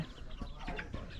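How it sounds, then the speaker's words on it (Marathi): Chickens cluck in short, soft bursts, a few scattered calls close by against a quiet Konkan village background in winter. "कोंबडी काय करतात तिकडे"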